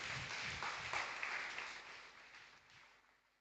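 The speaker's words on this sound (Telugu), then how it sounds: "చప్పట్లు కొట్టండి వాళ్ళ కోసం" A congregation at a Sunday worship service gives a short round of clapping, faint and a little distant, that fades away over a few seconds.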